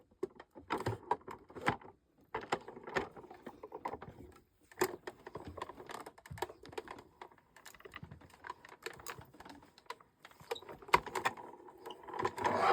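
Hand-cranked card embossing machine pressing a quilted pattern into card stock, heard as a continuous run of close, dense mechanical clicking and ratcheting with brief pauses, alone without talk.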